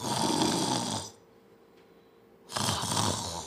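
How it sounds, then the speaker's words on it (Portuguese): Loud recorded snoring of an adult: one long rasping snore, a quiet pause, then the next harsh snore starting up, close and dry with no talk. "Eu ofendo o porquinho com o meu ronco"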